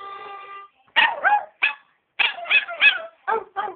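A dog barks in a quick series of sharp, close yips and barks with short pauses, following a brief sustained tone at the start.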